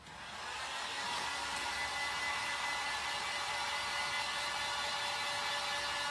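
A heat tool blows hot air steadily over a grubby fake-bake wheat bread craft piece, a loud, even whirring rush that holds without a break and with no talking over it.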